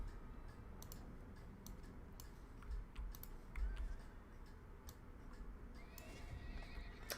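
Horse in a video game gives a single whinny near the end, heard over a steady stream of nearby computer keyboard clicks and faint background hum.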